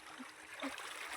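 Irrigation water flows steadily through a wheat field channel, a continuous close trickling rush with faint splashes and no voices.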